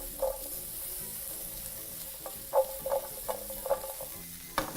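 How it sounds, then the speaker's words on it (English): Food tossed in a frying pan with butter and cayenne pepper sizzles softly while a utensil scrapes and clinks in irregular bursts, close by with no talking. "toss those in your pan, moving them around continuously"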